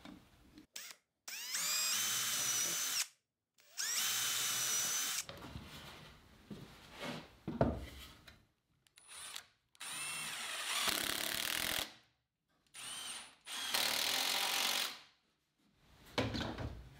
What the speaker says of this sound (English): I'll drill 2 3/16 inch pilot holes through the 2x6 and try to keep the drill as straight as possible